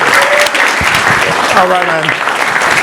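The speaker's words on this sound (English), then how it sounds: "Ladies and gentlemen, a round of applause for 2000." An audience applauds a handball team, a dense, steady wash of clapping that fills the whole stretch while someone talks over it.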